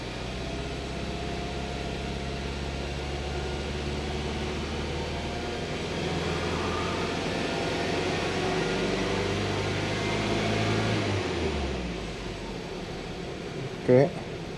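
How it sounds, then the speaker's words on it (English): 2015 Hyundai Santa Fe Sport engine misfiring at raised RPM: steady engine drone rising in pitch and intensity midway, then dropping back, with a brief click near the end. "So let me try to raise the RPM and see. It's misfiring more."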